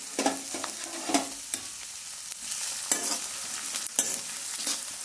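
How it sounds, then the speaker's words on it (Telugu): Ginger pieces fry in about 100 grams of hot oil with a continuous close sizzle, broken by repeated scraping stirs of a spoon against the pan. "ఈ ఆయిల్లో అల్లం ముక్కలు వేసేసుకొని ఫ్రై చేసుకోవాలండి"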